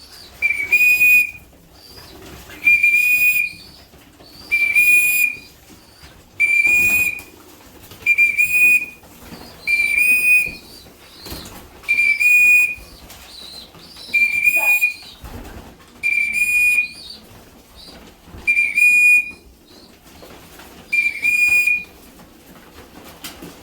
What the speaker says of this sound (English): So I'm just going to carry on whistling.